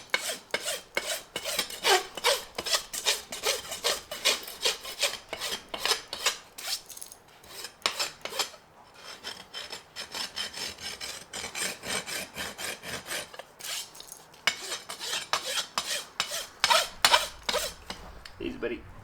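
A farrier's rasp works a horse's hoof during shoeing of an eventing horse, loud rhythmic scraping strokes in quick repeated bursts close by, pausing briefly midway before resuming, with no talk over it.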